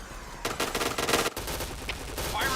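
Rapid automatic gunfire in the shooter game Point Blank sounds as a dense burst of shots, a short break, and then more sustained fire. There is no speech.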